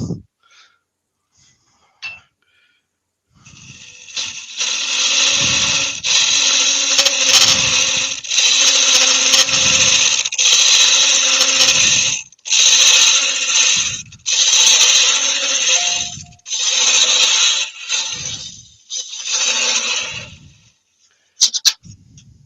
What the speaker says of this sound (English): I'll use my Sorby one just to give that a clean up to get rid of any ridges in there